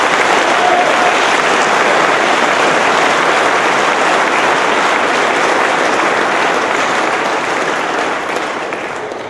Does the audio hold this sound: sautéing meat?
no